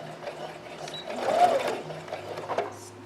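Sewing machine running a short stitch along a sleeve under seam, a brief, fairly quiet whir that swells and fades within a few seconds.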